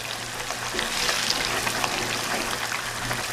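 Masala paste for Lahori chikar cholay fries in a pan with a continuous soft hiss and crackle, steady throughout and without talk.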